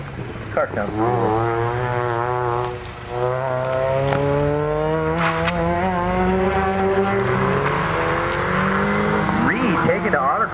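Engine of an autocross race car at Tri City Raceway, a loud continuous drone with rising and falling revs as it drives the course, with people talking over it.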